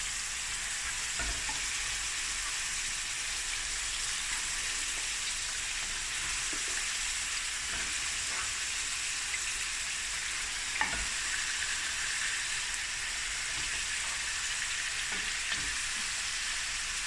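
About 1.5 kilograms of lamb pieces fry in hot oil in a pot, a steady dense sizzle running throughout with occasional stirring clicks and scrapes.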